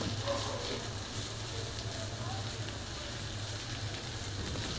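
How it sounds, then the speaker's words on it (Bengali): Onion and garlic fry in a pan for a herb bhorta. A steady, close sizzle and crackle runs throughout with no talking. "পেঁয়াজ 2 মিনিট ভেজে নিব"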